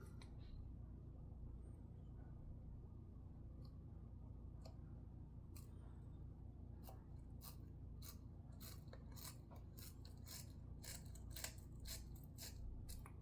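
Small snips and clicks cut plastic parts from a model kit sprue during assembly, scattered at first and then quicker and more frequent, sharp and close over a low steady room hum.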